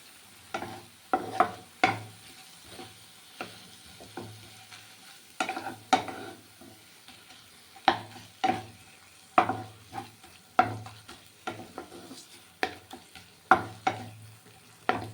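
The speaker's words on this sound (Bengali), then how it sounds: "আলু বেগুন শাক বেশ সব কিছু গলে গেছে আর খুন্তি দিয়ে এইভাবে একটু মিলিয়ে নেব" A metal spatula stirs a soft mix of spinach, potato and eggplant in a pan, making repeated scraping strokes at a steady rhythm over a low sizzle, close and without talking.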